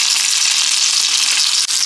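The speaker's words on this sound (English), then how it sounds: "I'm almost done frying the last piece of chicken" Chicken pieces for chicken parmesan frying in hot oil, a steady dense sizzle running throughout with one brief dip near the end, close and loud, no voices.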